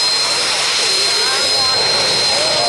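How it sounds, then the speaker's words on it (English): A jet-powered tractor at a tractor pull in Odessa, Saskatchewan, roars loudly and steadily with a bright turbine whine, an unbroken close blast that covers the whole stretch. "JetBlue, the only jet-powered tractor in Canada, right here in Odessa, Saskatchewan, thundering the Prairies"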